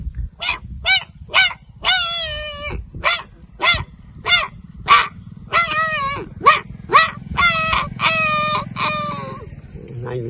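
A voice artist imitates a dog with a rapid run of a dozen or more sharp, yelping barks and drawn-out howl-like cries, loud and close, with no other sound.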